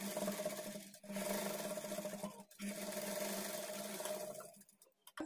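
A sewing machine stitches a blouse hook strip at a quarter-inch margin, running in two steady stretches with a short pause between, fairly quiet and alone.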